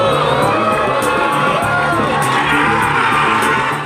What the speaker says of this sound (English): we were all like cheering and we were really excited and happy